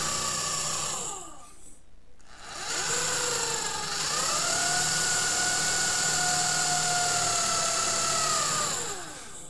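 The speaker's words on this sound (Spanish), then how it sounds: "ponerle el taladro en línea recta" A power drill boring into a wooden beam whines at high speed, briefly cuts out, then spins back up and runs steadily for several seconds before winding down.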